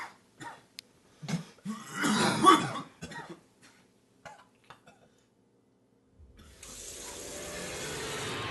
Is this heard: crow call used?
no